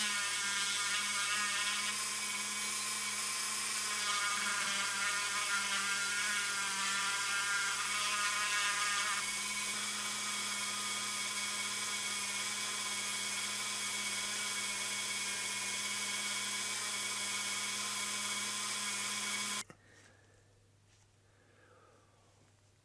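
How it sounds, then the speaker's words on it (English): A diamond burr bit in a high-speed rotary tool whines steadily while grinding and smoothing metal engine bay walls of a Mustang wagon, a close continuous tone that cuts off near the end. "We're going to switch to something like this now. It's kind of a diamond burr bit. It'll be able to flatten and clean up the walls a little bit."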